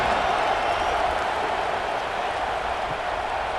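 Stadium crowd roars steadily under night lights at a College Football 26 game, a dense, continuous wash of cheering and noise holding at a loud level throughout with no clear breaks.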